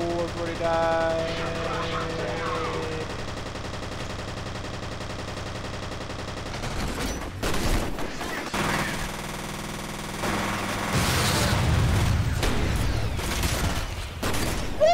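Gunfire in the video game F.E.A.R., loud rapid bursts of shots with a sustained volley near the end, over game music and sound effects.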